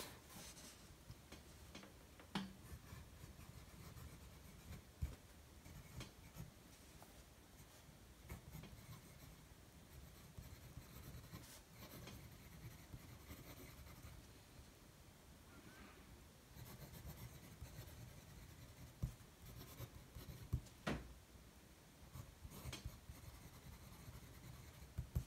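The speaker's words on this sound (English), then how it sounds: "So you can hear there is a bit of tooth on this paper." A Retro 51 Tornado Lincoln fountain pen with a medium nib and Diamine Ancient Copper ink writes on textured linen A5 notebook paper, a faint continuous scratchy rasp with soft ticks from pen strokes, very quiet and close.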